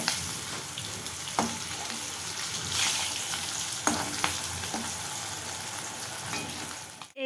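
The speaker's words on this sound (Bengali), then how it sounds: "সবে মাছটা ভেজে নিচ্ছি" Fish fries in a pan with a continuous hissing sizzle, while a few sharp clinks and scrapes of stirring sound at close range; no one talks.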